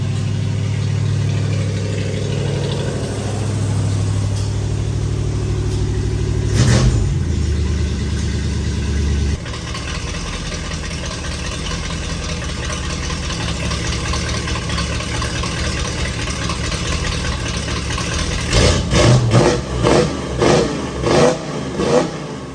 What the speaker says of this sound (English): Let's go tap the throttle, see if it'll idle down a little bit.